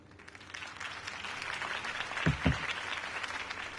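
A crowd applauds after Harvey Dent's campaign speech, a sustained wash of clapping with a couple of louder thumps near the middle, fairly distant.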